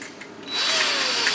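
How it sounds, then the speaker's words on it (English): A power drill fitted with a screwdriver attachment runs up to a steady high whine, driving screws into a wooden storage lid, close and loud after a brief quieter start. "And put in the screwdriver attachment."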